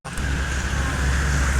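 A tour bus rolls along the road close by, its engine rumble and tyre roar steady and loud through the short stretch, with no voices.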